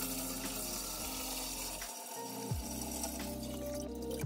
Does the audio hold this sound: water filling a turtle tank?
yes